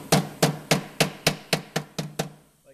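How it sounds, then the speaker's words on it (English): A hammer pounds the protruding edge of a BDX/SSI Ascender-Pro running board during installation, nine sharp, evenly spaced strikes at a steady rhythm, close and alone with no talk. "we're going to take this hammer and we're just going to pound it"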